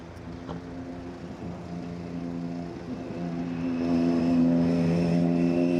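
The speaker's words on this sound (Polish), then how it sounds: "Uwaga, samochód." A car passing close by on a street, its engine drone and tyre hum swelling steadily louder toward the end, under a busy outdoor background with no talking.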